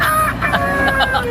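A chicken clucks close by in a few short, strained calls, with a low engine-like rumble underneath.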